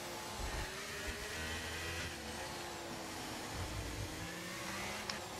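An F1 car in the F1 2023 racing game accelerates hard out of a corner at full throttle, a steady, fairly faint engine whir that persists throughout the clip.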